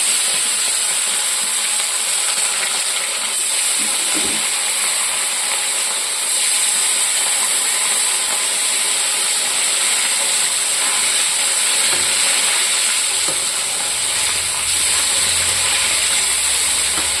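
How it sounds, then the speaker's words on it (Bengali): Fish pieces rubbed with turmeric fry in hot oil in a wok, giving a loud, steady hiss that runs unbroken throughout with no talk. "সব মাছটা আমি এরকম করে ভেজে নেব।"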